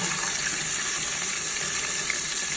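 Flour-coated shrimp seasoned with Sazon fry in a pan, giving a loud, steady, continuous sizzle with no talking.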